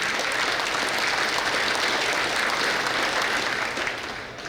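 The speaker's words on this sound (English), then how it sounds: "Give them a round of applause if y'all don't mind." Townspeople at a parish town hall meeting in Louisiana applaud in a sustained, even burst of clapping that fades slightly at the end.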